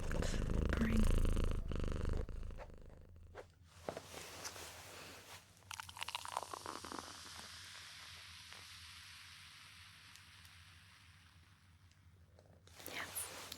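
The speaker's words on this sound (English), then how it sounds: "Purring." A cat's low, rumbling purr runs under soft crunchy rustling and occasional clicks, close and quiet throughout.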